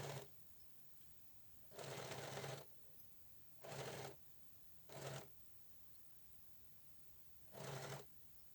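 A sewing machine stitching pyjama fabric, running in four short, fairly quiet bursts of rapid whirring with pauses between them, no talk over it.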